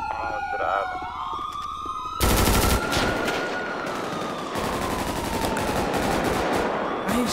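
Rapid automatic gunfire in a GTA RP street shootout, loud bursts of shots rattling over wailing police sirens, with a sharp heavy volley partway through and continued firing to the end.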